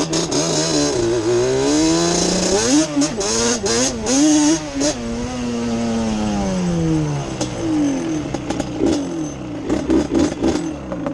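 An engine revs hard with a rising and falling whine as slick tires spin on overgrown grass, loud and close, sustained for several seconds with the pitch climbing and dropping.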